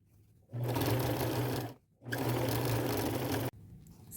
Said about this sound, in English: put these right sides together and use a 1/4 inch seam allowance and sew these two ends together